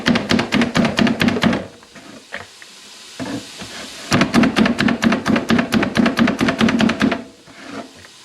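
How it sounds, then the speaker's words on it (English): Rapid, steady knife chops through vegetables on a cutting board in two long bursts, close and crisp, with a short pause between them. "I'm going to keep on chopping veggies."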